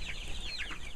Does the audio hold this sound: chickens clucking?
yes